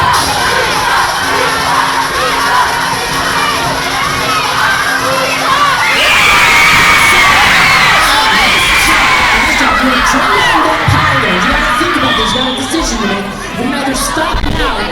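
A large audience of sixth-grade students at a school assembly cheers, shouts and whoops loudly and continuously, a dense, excited crowd roar that swells midway and holds without letting up.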